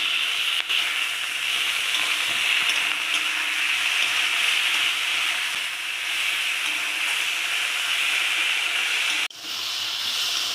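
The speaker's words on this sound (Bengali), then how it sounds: "দেখো, একটু কষিয়ে নিয়েছি আমি মশলাগুলো" Ginger-garlic paste and spices fry in a pan with a steady, close, even sizzle and hiss, a brief clatter near the end and no voices.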